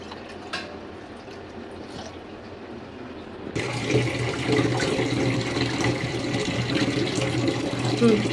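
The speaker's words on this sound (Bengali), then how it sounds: "এই যে মাংসের মধ্যে পানি দিলাম" Water gushes onto fresh beef being washed for tehari. It is quiet at first, then a loud, steady stream starts abruptly partway through and keeps running to the end.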